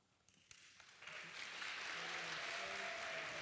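Audience clapping at a Juneteenth jazz benefit concert, starting as a few scattered claps and swelling into steady, dense applause that fills the room.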